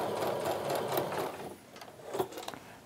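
Domestic sewing machine stitching long strips of quilt fabric for a strip-pieced herringbone quilt, a close, steady motor whir for about a second and a half, then a pause and a shorter second burst.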